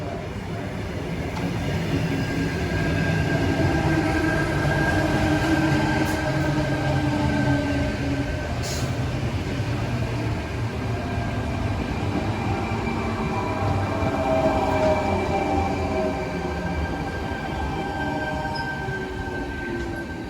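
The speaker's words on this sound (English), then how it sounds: "this Tangara train coming in now is on the T1 service going towards Parramatta" A Sydney Trains Tangara electric train on the T1 line rolls into a station with a steady rumble and faint high whine, wheels clattering softly as it slows, heard from close by without talk.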